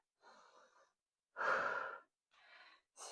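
Slow, audible breaths during a full-body strength workout, with a long inhale standing out between softer breaths, close and quiet.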